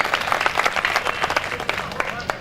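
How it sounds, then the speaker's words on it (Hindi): Loud applause and clapping from an audience at a Hindi comedy poetry gathering at a temple, dense and continuous for a couple of seconds. "ऐसे दायमत जी के लिए एक बार जोरदार ताली बजा दें।"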